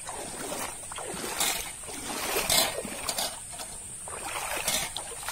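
River water flowing and splashing at a crossing on the way to a farm in Konkan, a steady nearby babble with irregular louder splashes, and no voices over it.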